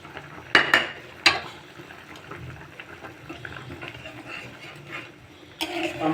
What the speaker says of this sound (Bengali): এবার আমি বেটে রাখা সরিষাগুলো সব দিয়ে দেব ঝোলের